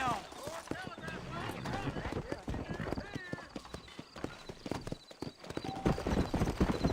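Hooves clip-clop in a quick gallop as a horse runs in the Red Dead Redemption video game, close and rhythmic, with occasional whinnies, game music and voices talking over it throughout.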